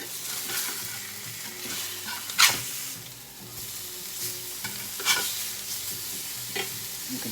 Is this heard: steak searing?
yes